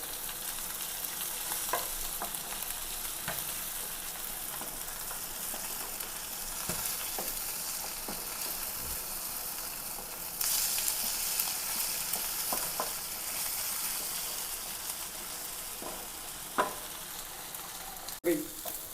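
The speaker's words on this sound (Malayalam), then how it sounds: "അപ്പോൾ നമ്മുടെ വറുക്കുന്ന മുള്ളനെ ഒന്ന് മറിച്ചിട്ട് നോക്കാം കേട്ടോ" Steady oil sizzle of mullan fish frying in a pan, continuous and close, with occasional soft clinks and stirring taps.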